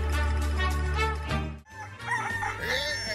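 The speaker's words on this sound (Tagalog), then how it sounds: "Nagpigsa mo ti taraok na dayta a manukan." A rooster crows loudly and close by in long drawn-out calls, with a brief pause before a second crow. The scene is a rural yard in an Ilocano comedy drama.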